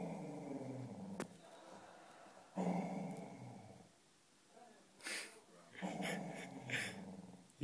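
A dog growls and snorts in short bursts, close up, with wheezy breathy snuffles between the rumbling growls and sharper sniffs toward the end.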